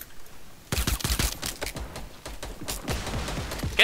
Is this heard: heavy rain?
no